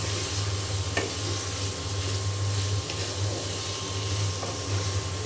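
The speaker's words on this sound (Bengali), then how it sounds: "লাড়া দিয়ে ভাজিটা করে নেব ভালোভাবে" A vegetable stir-fry sizzles steadily in a pan while being stirred, a close, even frying hiss with occasional scraping clinks of the utensil and no talk.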